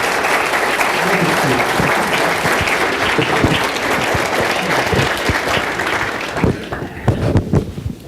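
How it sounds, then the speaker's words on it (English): An audience at a county community visioning meeting claps in a steady round of applause that gradually tapers off, with a voice speaking over the final seconds. "We got a round of applause"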